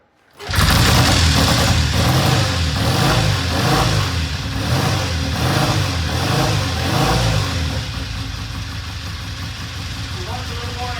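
Triumph 350cc 3TA motorcycle engine catching and revving at half throttle, loud and close, with rhythmic surging early on that settles into a steady idle.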